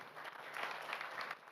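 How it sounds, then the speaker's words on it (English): A small audience at an education forum in Uganda claps together, a brief, fairly faint burst of dense applause lasting a second or two with no voices over it. "Please clap for Bella,"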